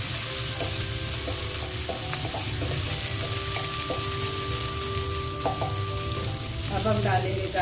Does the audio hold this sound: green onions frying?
yes